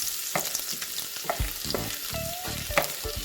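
Garlic frying in a pan for spicy crab delight, sizzling steadily up close as a spatula scrapes and stirs it in a few short strokes.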